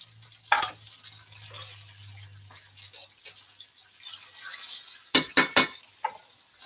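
Ground meat sears in a pan as the base for spaghetti sauce, giving a steady soft sizzle with a low hum, then a cluster of sharp utensil scrapes and clinks near the end. Nobody speaks.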